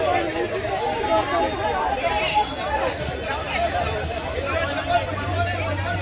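Dense, continuous crowd chatter fills a busy Mumbai railway station near Churchgate and CSMT, many voices blending into a loud, close babble with footsteps and movement throughout.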